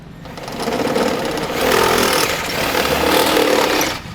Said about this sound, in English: I'm going to take my drill with my step bit and I'm going to enlarge the hole